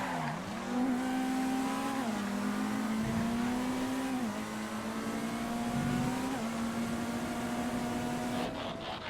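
A Rapid GTE car in a GTA FiveM race, its engine droning steadily with pitch rising and dropping through gear changes as it revs along, loud and continuous.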